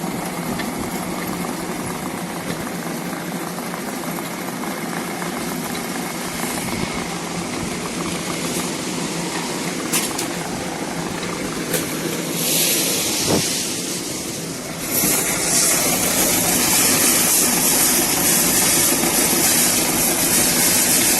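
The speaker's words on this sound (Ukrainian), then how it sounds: "Зараз поставлю мотора, будемо пробувати запускати." A small motor on a homemade scraper loader for soybeans sputters, then catches and runs with a rising, steady buzzing whine that grows louder and keeps going to the end.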